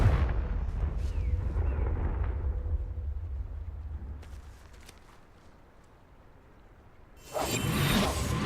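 Confringo blasting spell exploding in the video game Hogwarts Legacy: loud rumbling booms and whooshes that fade to a quiet lull, followed by a sharp burst of crackling blast near the end.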